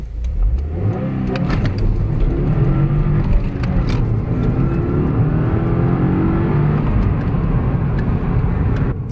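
Subaru WRX engine heard from inside the car while driving, a loud continuous mid-pitched drone that rises and falls as it revs and pulls through the gears, with no talking.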